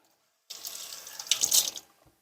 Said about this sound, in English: we're just going to rinse them